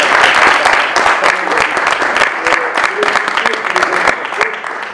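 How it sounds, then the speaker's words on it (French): Audience clapping at a public meeting where farmers sign a pledge on lake pollution, sustained and fairly close applause lasting the full five seconds and tapering slightly at the end. "Je pense qu'on peut applaudir les 2 premiers qui ont osé signer."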